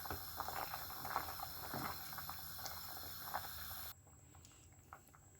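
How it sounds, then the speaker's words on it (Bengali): Tomatoes boiling in a pot for tomato soup, a faint steady bubbling with scattered pops that drops to a quieter simmer partway through, close and without talk. "আমার একটা প্রায় সিদ্ধ হয়ে এসেছে।"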